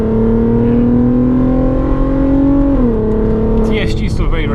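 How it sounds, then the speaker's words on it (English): A Volkswagen Golf R32's engine revs steadily with a smooth, droning hum, pitch dipping slightly before a brief DSG gearbox shift and some mechanical clatter at the end. "It's quite a lazy revving engine."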